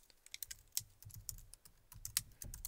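Soft, quick keystrokes on a computer keyboard tap out a few words, close but quiet, in uneven clusters with no talking.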